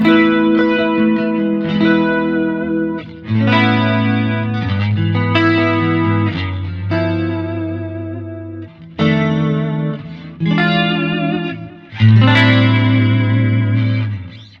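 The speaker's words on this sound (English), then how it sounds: "stereo chorus. Yeah, you can really hear that I'm connected in stereo now because it adds a lot of depth" Electric guitar chords through the stereo chorus effect of a Zoom MS-50G multistomp pedal, lush and shimmering, strummed in separate phrases with short pauses between them; no talking.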